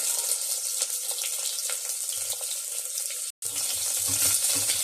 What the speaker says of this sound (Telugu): వీటిని బాగా ఫ్రై చేసుకోవాలి. లైట్గా బ్రౌన్ కలర్ వచ్చే వరకు ఫ్రై చేసుకోవాలి.